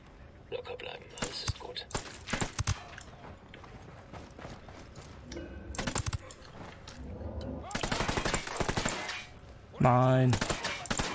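Gunfire in the tactical shooter Ghost Recon Wildlands, sharp bursts of shots and rapid volleys scattered across the stretch, some clustered densely, with someone talking between them and a mechanical rattle near the end.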